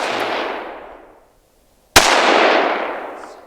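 A Tikka T3 Varmint rifle in .22-250 Remington fires two loud, sharp shots at a 200-yard range, each cracking close and then trailing off in a long, fading echo, with no voices.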